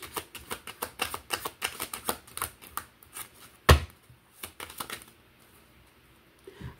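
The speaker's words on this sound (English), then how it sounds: "I'm going to pull one more card from this deck." A tarot deck being shuffled and a card drawn: a quick run of crisp card riffles and taps, then one sharp louder snap of a card being pulled, followed by a few soft handling sounds.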